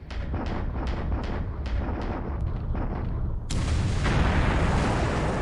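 Torpedo hits explode against the British ship Repulse in the naval war game War in the Pacific. A quick series of sharp bursts is followed by a sustained, loud roaring blast.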